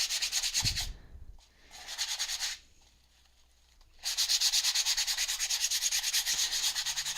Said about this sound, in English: I just kind of sand it down and scruff it up a little bit